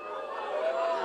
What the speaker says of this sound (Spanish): permite el segundo de abucheo